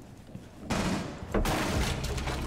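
ACS12 automatic shotgun firing in Rainbow Six Siege, two sudden loud bursts of gunfire that cut over lower background game noise, close and heavy.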